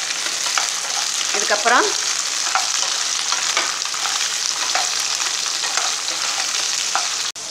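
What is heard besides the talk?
vegetables sautéing in oil in a pan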